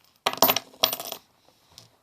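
Two quick bursts of coins spilling and clinking out of a wallet's coin pocket, followed by a faint final coin tap a moment later in a quiet room.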